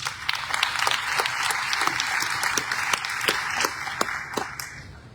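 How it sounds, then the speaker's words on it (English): A crowd at the South African election results announcement bursts into sustained applause honoring the people who took part, steady dense clapping with sharp individual claps standing out, filling the hall from start to finish without talk. "everybody who did so really deserves a huge hand of applause."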